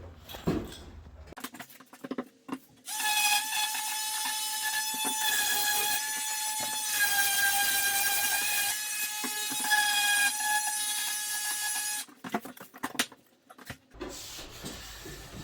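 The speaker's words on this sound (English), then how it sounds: "So I'm gonna take a sander and get that all sanded out right there too." A power sander smoothing the rough factory-cut edge of wooden window trim, a loud steady whine running for about nine seconds, with handling knocks before and after.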